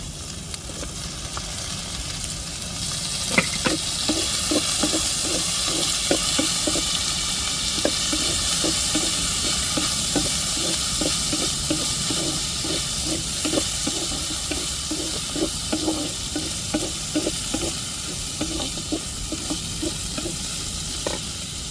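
Shallots sauté in a hot pan with tomatoes and chilies, giving a steady loud sizzle with frequent stirring scrapes and clicks throughout, no voices.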